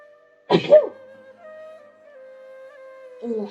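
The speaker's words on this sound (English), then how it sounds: "Oh, hold on. Sneeze." A single sneeze bursts out near the start, loud and close, then fades into quiet background tones from a Genshin Impact story quest, with a brief voice stirring at the end.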